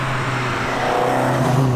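Alfaholics Giulia Super R 270, a restomod Alfa Romeo Giulia, being driven: a loud, steady engine drone heard from close by, swelling slightly as revs rise, with no talk.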